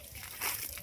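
Water poured into a bird's drinking pot set out for summer, a short sloshing splash rising briefly in the middle and settling again, close and fairly quiet.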